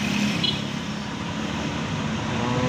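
Continuous road traffic drones nearby, a broad rumble of passing vehicles with an engine hum and a brief higher whine near the start, with no one talking.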